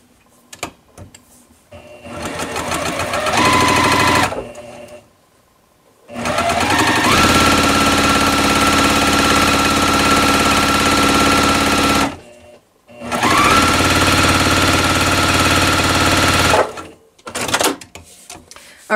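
Close, loud sewing machine running steady stitches through quilt fabric while piecing a modern plus-sign quilt block, in three long sustained runs separated by brief pauses, with a short stop-start burst at the end.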